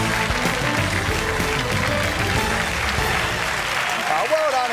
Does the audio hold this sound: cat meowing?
no